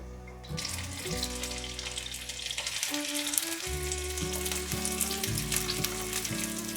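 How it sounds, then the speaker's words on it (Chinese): Vegan gluten sausage sizzles as it fries in a little oil in a pan: a steady, close crackle that runs throughout under background music, with no talking. "锅内放入少许的油， 把面肠放进来煎，"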